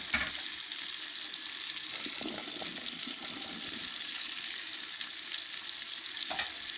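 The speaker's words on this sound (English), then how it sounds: "And I'll stir the pot." Fried rice with green beans and green pepper is stirred in a pot, producing a soft, continuous frying hiss with faint scraping stirs and a light clatter near the end.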